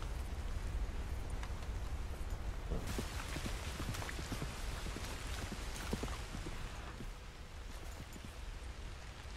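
Rain falls in Red Dead Redemption 2 as a steady, faint hiss of patter on surfaces, with scattered soft drops and no voices.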